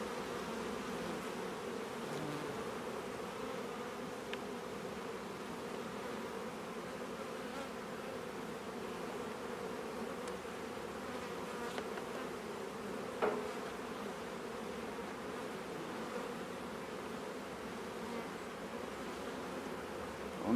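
Honeybees buzz steadily at an opened hive during an autumn inspection, a dense, even drone close by with no voices.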